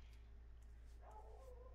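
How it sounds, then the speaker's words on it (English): A few faint, muffled dog barks in the video game Endoparasitic sound in the distance over a steady low hum, sparse and soft rather than close or loud. "Doggos are now barking."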